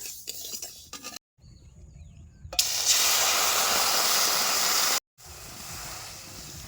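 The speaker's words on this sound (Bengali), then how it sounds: "এবারে জল দিয়ে দেবো অল্প করে" Water poured into red-fried mung dal in a hot pan sets off a sudden loud hiss of steam and sizzling that holds steady for a few seconds and then cuts off, with quieter stirring and pan clinks before and after.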